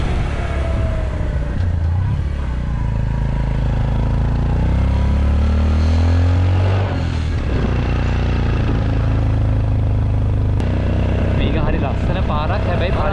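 Motorcycle engine droning steadily throughout a ride along a winding hill road from Kegalle to Dolosbage via Palampitiya, loud and close with wind rumble, shifting slightly as it climbs and bends.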